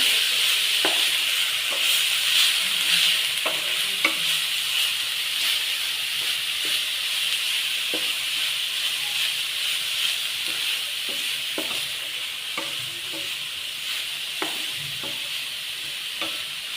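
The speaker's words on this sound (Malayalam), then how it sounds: "ഇളക്കി വയ്ക്കാം ഇളക്കി കൊടുക്കാം" Bitter gourd peera, a Kerala-style dish with grated coconut, cooking in a pan while a spoon stirs it, with steady sizzling hiss and intermittent scraping knocks throughout, no voices.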